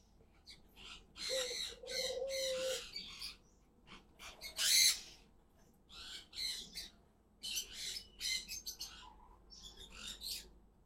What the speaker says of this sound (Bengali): ঘুঘু পাখি তো অনেক বাচ্চা হয়েছে, ভরে গেছে একদম